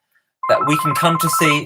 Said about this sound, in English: sorry, that's my phone, should have turned that off before we started